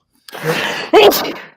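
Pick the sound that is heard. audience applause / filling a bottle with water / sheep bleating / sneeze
sneeze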